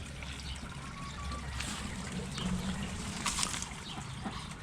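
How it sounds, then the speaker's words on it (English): Water trickles and dribbles from the bottom of a swirl filter, a faint, continuous outdoor leak with a soft splash and light background ambience. "Water is leaking from the bottom."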